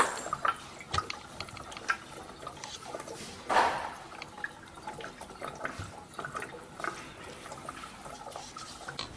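Distilled water trickles into the tank of a PEC 3000 rotary die board laser cutting machine's water chiller, a faint, uneven splashing and dribbling with one brief louder gush, heard alone at close range.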